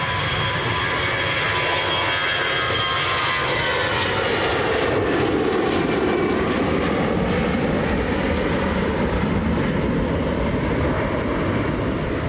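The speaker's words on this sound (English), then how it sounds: "This one's going out to Prague. Airbus A320." An Airbus A320 jet departs for Prague from Manchester Airport, a loud, steady roar of jet engines with a broad rushing noise that swells slightly midway and continues without a break.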